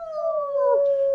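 A voice imitates a wolf howl, one sustained rising-and-falling wail lasting about a second, close and clear with nothing else behind it.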